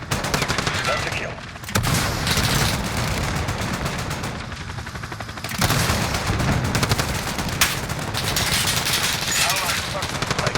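Rapid, sustained automatic gunfire with booming shots fills a Call of Duty Warzone battle, loud and continuous with brief lulls and radio-style voice callouts mixed in.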